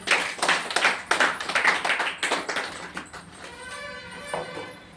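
A small group claps in a quick, uneven burst of sharp hand claps at a community product talk. The claps thin out and fade toward the end.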